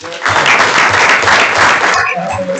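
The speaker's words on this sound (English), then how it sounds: "Let's give him a round of applause." A council meeting audience applauds steadily and loudly, dense clapping filling the room for about two seconds before tapering off, with faint voices at the end.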